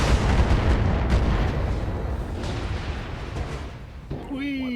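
Heavy, sustained rumbling explosion in the mech combat game BattleTech, echoing and rolling off hillsides, loud and dense before tapering, with a brief electronic tone at the end.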